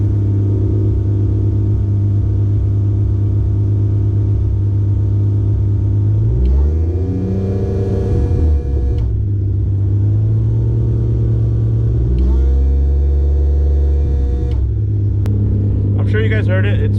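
Toyota Supra MKIV engine on rolling anti-lag near 1200 RPM, a loud, deep, close idle rumble that swells twice in revving surges with harsh crackle before settling back.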